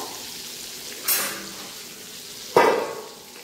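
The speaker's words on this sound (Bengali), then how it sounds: "পটলটা ভাজা ভাজা করে নিয়েছি" Pointed gourd (potol) frying in a pan: a low, steady hiss broken by two sudden, loud sizzling bursts, each fading away, close by and with no voices.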